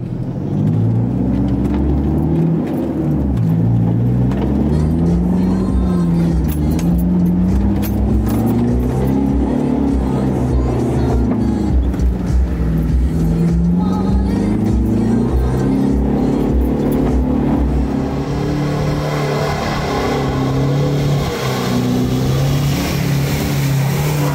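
A 4x4 in low range second gear, driven flat out through flood-washed Tankwa terrain, roars loudly and continuously, its engine note rising and falling in long surges without any talk.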